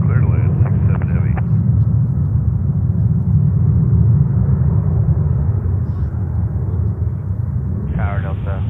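Airplane rumbling on approach to land on runway 31 right at JFK airport, New York; a steady, loud low roar holds throughout, with radio voices briefly at the start and end.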